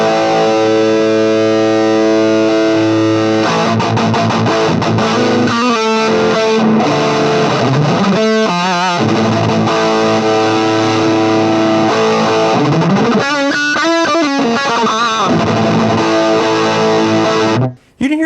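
A heavily distorted electric guitar runs through a modulation effect. Loud, sustained riffs and bends carry on for most of the stretch, then cut off abruptly near the end.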